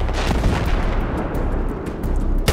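A sniper rifle shot rings out in the Battlefield video game over a dense, continuous wash of battlefield gunfire and booms, with a sharper crack near the end.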